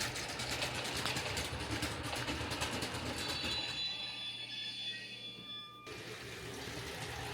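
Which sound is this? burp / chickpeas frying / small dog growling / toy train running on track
toy train running on track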